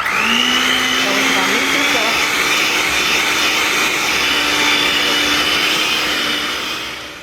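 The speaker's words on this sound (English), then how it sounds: "I had to get my mixer out because that spoon wasn't doing nothing." An electric hand mixer whirs loudly and steadily, beating doughnut frosting in a bowl, with a sustained motor whine that shifts pitch slightly as it works.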